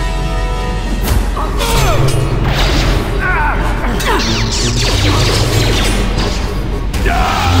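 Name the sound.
bombs exploding, dropped by the Sith, video game Knights of the Old Republic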